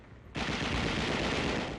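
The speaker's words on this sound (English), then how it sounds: "trying to escape our machine gun fire" Machine-gun fire from a WWII battle on Okinawa bursts in abruptly after a quiet moment and continues as a dense, unbroken roar of rapid shots, loud and harsh, with no voices over it.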